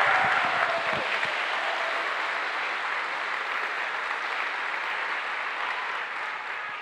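A congregation at a preaching service applauds in a steady, sustained wash of clapping that fades slightly toward the end, following a brief voice at the start.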